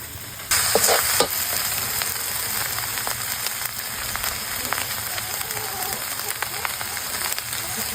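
Frog meat stir-fries in a home-style pan with a loud, steady sizzle and spatter, and occasional scraping stirs come through close and continuous.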